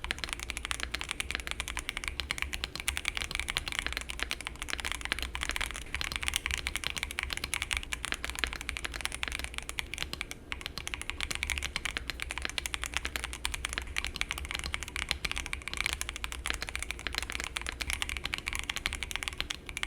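Steady, fast mechanical keyboard typing up close on a CIDOO V65, a continuous dense patter of clicky keystrokes with no pauses.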